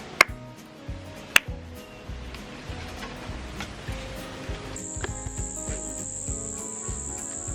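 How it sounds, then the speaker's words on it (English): Cicadas drone outdoors in a dense insect buzz beneath a few sharp ticks, and one high steady whine starts up partway through and holds to the end. "The cicadas were just insanely loud and one is just starting up again around me."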